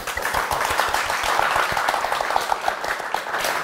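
A studio audience on a Turkish talk show applauds, dense steady clapping from many hands filling the room without pause.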